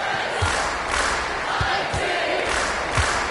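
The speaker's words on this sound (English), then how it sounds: "the crowd is buzzing after that sequence" Arena crowd noise buzzing steadily at a basketball game in NBA 2K25, a dense continuous roar of many voices with a few low thumps, no clear speech over it.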